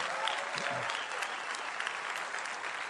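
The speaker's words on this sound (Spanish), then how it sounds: "Dale un aplauso, papá, fuerte." Steady, dense clapping from a large church congregation fills the whole stretch, loud and continuous without pause.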